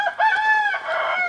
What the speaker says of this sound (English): Every once in a while, you'll hear him crow